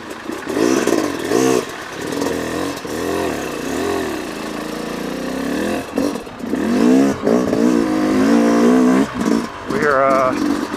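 A 2018 Yamaha YZ250X dirt bike on a trail ride revs up and down repeatedly, close and loud, its engine pitch rising and falling throughout, with a person talking over it.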